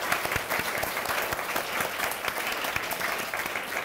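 An audience claps for the teachers at a school science event, steady dense applause from a crowd filling the room throughout without a break.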